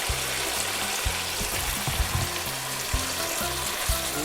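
A spicy red sauce mixture sizzles loudly with shrimp in a hot pan for a garlic shrimp noodle dish, a dense, steady frying hiss broken by repeated low scraping thumps of stirring.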